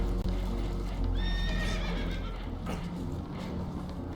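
Spooked horses in the video game Red Dead Redemption 2 whinny and neigh loudly amid a dense, rumbling background with clopping hooves, one shrill neigh standing out near the start.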